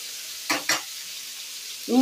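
Vegetables frying in oil in a pan for a Bengali prawn curry with tiger prawns and bori, giving two short stirring bursts of sizzle over a low steady crackle, then a louder sizzle at the end.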